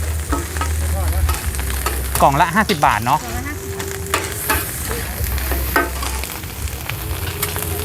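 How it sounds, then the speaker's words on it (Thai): Loud, steady sizzling of fried mussels being stir-fried in a very large wok at a food stall, with scraping stirs throughout and people talking nearby over the frying. "ผัดที่กระทะใหญ่มาก"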